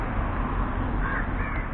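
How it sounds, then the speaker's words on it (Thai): Crows cawing in the distance over a steady outdoor wind noise by the seafront in George Town, Penang, a couple of short harsh calls. "ที่นี่อีกาเยอะมากทั้งอีกาทั้งนกพิราบนะครับ"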